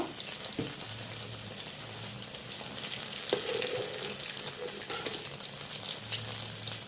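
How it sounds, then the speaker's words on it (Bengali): Eggplant pieces frying in oil for a poppy-seed brinjal curry sizzle steadily and close, a loud continuous crackle with occasional sharper pops as pieces are turned, no one speaking. "ফেটে গেল বেগুনটা সবগুলো একটু উল্টে পাল্টে লাল লাল করে আমি ভেজে নেব"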